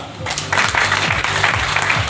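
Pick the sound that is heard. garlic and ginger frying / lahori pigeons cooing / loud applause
loud applause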